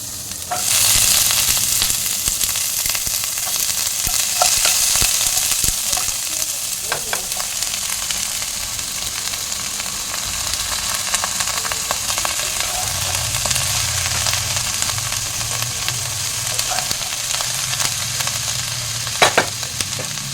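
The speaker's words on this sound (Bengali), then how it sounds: "একটু আদা বাটা, এবারে বাঁধাকপিটা দিয়ে দেবো।" Cabbage and ginger paste fry in hot oil, a loud, continuous close-up sizzle with stirring scrapes and occasional clinks throughout, and no talking.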